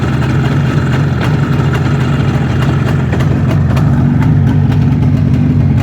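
A motorcycle engine running steadily at idle nearby, a loud, continuous low throb with even mechanical ticking throughout and no speech.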